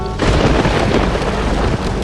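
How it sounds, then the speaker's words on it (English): Heavy rumbling thunder from a giant thunderstorm near Dallas rolls continuously with the wash of a storm, loud and close, filling the whole moment without any voices. "a giant swirling thunderstorm is rolling in"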